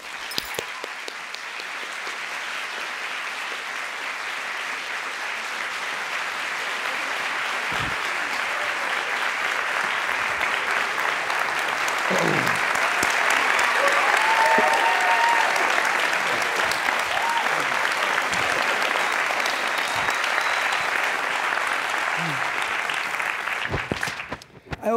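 Sustained applause from a large live audience welcoming actor Samuel L. Jackson and a moderator onstage, a dense steady clapping that swells toward the middle and holds for about twenty-five seconds before cutting off.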